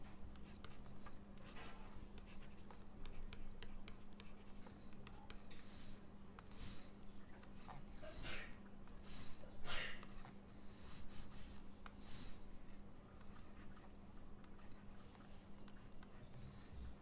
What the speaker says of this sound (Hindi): इसकी जगह 0 लिख दीजिए